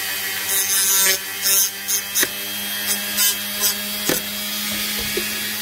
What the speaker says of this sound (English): We've got the little Dremel.